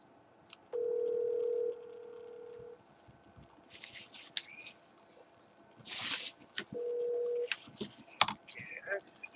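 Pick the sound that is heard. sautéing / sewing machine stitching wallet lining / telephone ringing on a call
telephone ringing on a call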